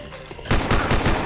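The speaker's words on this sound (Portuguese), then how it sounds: "muito interessante a pistola pela velocidade de tiro dela" Rapid pistol gunfire in the zombie shooter video game Land of the Dead, a dense burst of sharp, loud shots fired in quick succession after a quieter lead-in.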